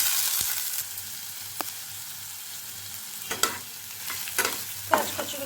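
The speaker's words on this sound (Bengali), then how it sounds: "তেল গরম হয়ে গিয়েছে, আমি এর মধ্যে এখন দিয়ে দিচ্ছি পেঁয়াজ কুচি।" Chopped onions sizzle in hot mustard oil, a steady broadband frying hiss with sharp stirring scrapes and clacks scattered through, a few louder near the end.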